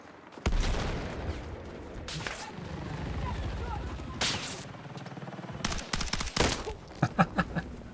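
An automated turret in Battlefield 6 fires in sharp, loud bursts, with a long volley early on and then shorter rapid clusters of shots near the end, while a player talks over the gunfire.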